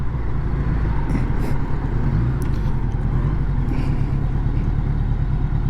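A 1980 Honda Goldwing motorcycle on a country road ride, its engine a loud, steady, low drone with constant wind rush and no pauses.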